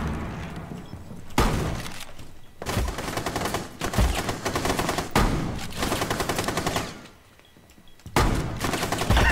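A French shotgun in a tactical shooter video game fires repeatedly, loud close blasts with sharp onsets and ringing tails, spaced roughly a second or so apart, with a brief lull before the final shot.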